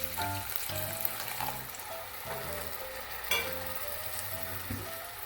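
Water poured into a pan of frying onions, ginger and garlic for Kasturi methi chicken: a steady close sizzle with spatula scrapes and a sharper hissing burst partway through.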